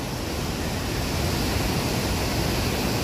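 The roaring waterfall at El Pailon del Diablo gives off a constant, dense rush of falling water, a loud, unbroken wash with no pauses or distinct splashes, heard from a scenic viewpoint rather than up close.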